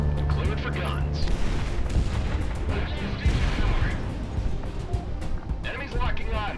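Aircraft guns fire in the Project Wingman combat flight game in a dense, continuous rattle with heavy booms and a roaring jet background, loud throughout.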